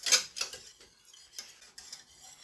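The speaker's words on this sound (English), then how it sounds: "Keep stirring." A spoon stirring smothered turkey wings in a pot, giving a few light scraping and clinking strokes at an uneven pace, close and fairly quiet with no talking.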